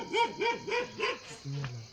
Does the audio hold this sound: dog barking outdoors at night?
yes